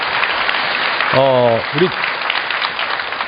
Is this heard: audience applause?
yes